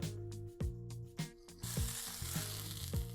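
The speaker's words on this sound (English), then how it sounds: "Next, we're going to add our burgers on to fry." Beef burger patties frying in a pan: a steady sizzle that grows into a bright, loud crackle, broken by repeated clanks and scrapes of a utensil against the pan, with no talking.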